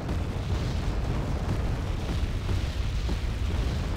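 Artillery hits exploding in the war strategy game Wargame AirLand Battle, a continuous dense rumble of booms and bursts filling the whole stretch, heavy and unbroken with no clear gaps.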